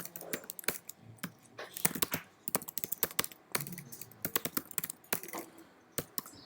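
Rapid, uneven keystrokes clatter on a computer keyboard while entering Java project settings at a desk, sharp close clicks in bursts with short pauses, no voices.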